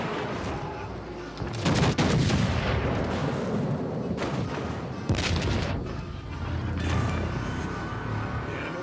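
Warship naval guns fire in World of Warships: Legends, with heavy booming salvos at intervals over a continuous rumble of battle, and a voice is heard briefly.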